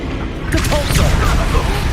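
Depulso force-push spell going off in Hogwarts Legacy, a loud booming magical blast with whooshing bursts and rumble, amid busy combat noise and voices.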